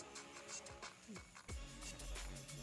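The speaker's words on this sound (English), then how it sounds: "I'll go ahead and sew it" A sewing machine stitches a fabric belt onto an Ankara-print lunch bag, its quiet, steady mechanical whir running through the whole stretch with small shifts in pitch and a few soft clicks.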